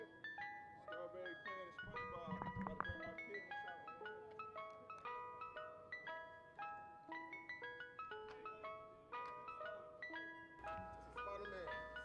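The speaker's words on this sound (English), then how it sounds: "A visit from the ice cream truck." Ice cream truck jingle playing at a Tampa Bay Buccaneers football minicamp, a steady tinkling melody running throughout with brief low thumps and chatter underneath.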